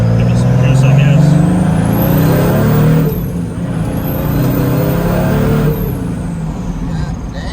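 A turbo diesel 2JZ-swapped Datsun 240Z accelerates hard, its engine rising in two long pulls with a brief lift between, loud and close from inside the car with whistling turbo spool over the drone.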